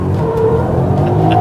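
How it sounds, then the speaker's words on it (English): Ford 2014 Mustang engine held at steady high revs under throttle while drifting, a loud continuous mid-pitched drone close by with a faint tonal whine and no pauses. "just gonna do a little clutch pop and give it some throttle and get the car to rotate"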